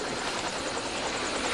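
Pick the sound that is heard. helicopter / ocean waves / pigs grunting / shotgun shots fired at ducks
helicopter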